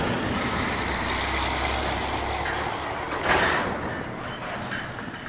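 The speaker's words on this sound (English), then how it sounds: "hold on, giant ass truck." A large truck passes close by, its engine a loud, steady rumble that swells and then fades as it moves on.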